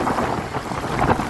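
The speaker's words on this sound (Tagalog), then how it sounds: "lakas ng hangin." Strong wind buffets the microphone in a loud, continuous, gusty roar with fluctuating surges and no voices.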